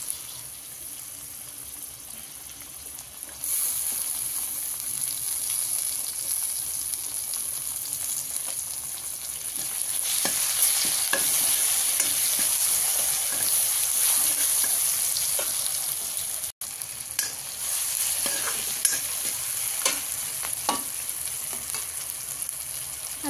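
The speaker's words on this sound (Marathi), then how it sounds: "आता आपण टोमॅटो टाकून घेऊ ह्याच्यामध्ये." Tomatoes dropped into a hot pan with turmeric hiss loudly, and the sizzle swells into a steady, close frying roar punctuated by repeated stirring clicks and scrapes, with a brief sharp knock midway.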